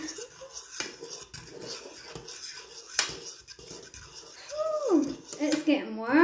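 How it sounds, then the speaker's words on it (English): Utensil scraping and clinking in a pan while tinned all-day breakfast with pepper and oregano is stirred, soft irregular scrapes close by, with a voice talking over parts of it. "And stir it."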